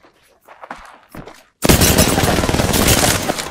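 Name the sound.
gunshots in video game Apex Legends 1v1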